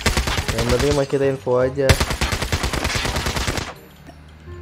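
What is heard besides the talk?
gunfire from shooting in Call of Duty Mobile video game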